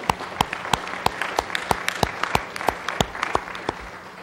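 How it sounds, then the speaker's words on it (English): A small group at a city council meeting gives a round of applause, a thin scattering of distinct hand claps with a few people clapping in loose, uneven rhythm over a quiet room. "if we can get a round of applause for them"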